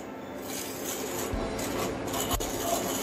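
Semolina dry-roasts over medium heat while a spoon scrapes and stirs it around the pan, a soft continuous gritty rubbing close by.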